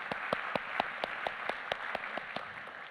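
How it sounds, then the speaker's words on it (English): Sparse applause from a conference audience after a morning education panel, a few distinct hand claps spaced in a steady rhythm over a light background, fairly quiet and without voices. "Let's have another applause for that incredible panel this morning."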